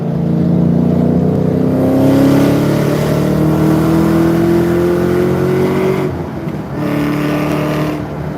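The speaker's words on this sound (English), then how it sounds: "Let's give you guys a little bit of an acceleration." A Chevrolet Camaro ZL1 accelerates up a highway on-ramp at partial throttle, its loud engine roar climbing steadily in pitch through a gear, heard from inside the car.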